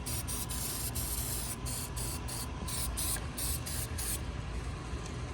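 Aerosol spray can spraying a coating onto the underside of a part while installing 6.0 injectors, a series of short hissing bursts with brief pauses between them, close and loud.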